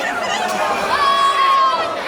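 Wrestling crowd packed around an OTT anniversary show in Wolverhampton, a steady loud hubbub of chatter and shouts with a rising whistle cutting through, surrounding and close.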